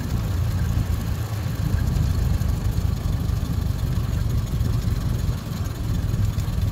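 A Ford Model T engine idles steadily, a low continuous rumbling putter close by with a slight dip near the end, no talk over it.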